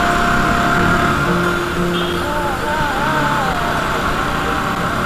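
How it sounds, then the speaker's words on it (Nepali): A motorbike engine runs on a ride toward an ashram, its wavering drone rising and falling in pitch under steady road and wind rumble. "साउन्डै चेन्ज भएको छ क्या मेरो बाइकको त"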